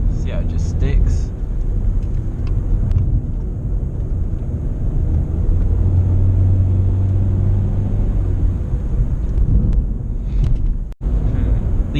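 A Nissan Sentra SE-R sedan drives through corners, its engine and road noise making a loud, steady low rumble heard from inside the cabin, with someone talking over it.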